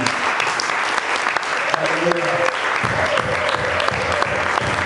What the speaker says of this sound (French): j'aimerais aussi qu'on acclame pour toi-même